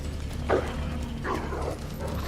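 Dogs bark in the survival horror game Resident Evil 2, a few short yelps and barks spaced apart over a low, steady game ambience, with no talk in the clip.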